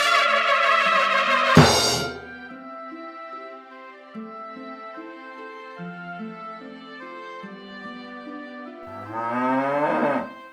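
A herd of buffaloes in a Hindi cartoon moo in long, loud, overlapping low calls that rise and fall, with sharper bursts near the start and end of the stretch.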